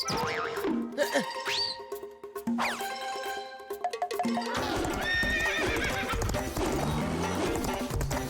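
A cartoon horse whinnies loudly, then hooves clip-clop in a fast, steady rhythm, mixed with bright jingles and dings from a kids' animated show.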